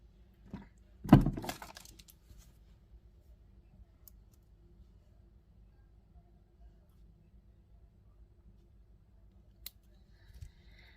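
Wire cutters snip excess jewelry wire from a handmade heart pendant: one sharp, close cut near the start, followed by near silence and a few faint clicks of handling.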